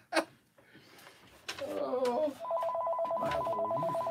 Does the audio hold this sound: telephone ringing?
yes